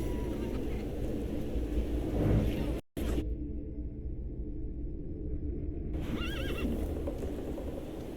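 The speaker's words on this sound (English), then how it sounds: "I meant to take the horse out for a ride" A horse in the video game The Thaumaturge neighs and whinnies with a steady clip-clop of hooves, loud and close over game background sound, cut by a brief dropout partway through.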